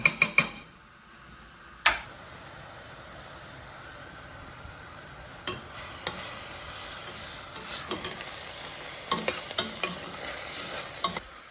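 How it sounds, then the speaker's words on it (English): Ground meat browning for a spaghetti meat sauce, hissing steadily in a pan, with metal clinks and spatula scrapes against the pan at the start and scattered through the rest. "we're going to let all that meat brown."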